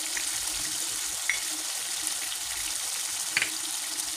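Prawns frying with salt, turmeric, sugar and spices hiss in a steady close sizzle while being stirred, with a few light knocks of the utensil against the pan.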